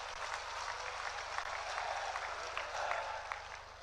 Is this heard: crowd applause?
yes